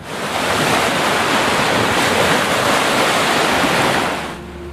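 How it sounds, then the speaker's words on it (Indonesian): Red Sea waves surge and crash against each other at night in a loud, steady roar of surf with wind, holding for about four seconds before fading. "meluapkan gelombang-gelombang yang saling berbenturan"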